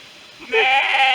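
A sheep in a field gives a single loud, wavering bleat up close, preceded by a brief quiet rustle.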